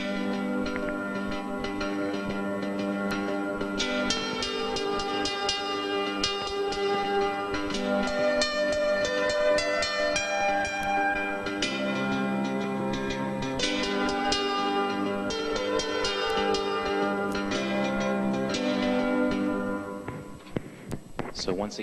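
A melody is played with repeated notes removed, set against the rhythm accompaniment of another piece, a busy, continuous musical texture that runs loudly throughout before fading away at the end.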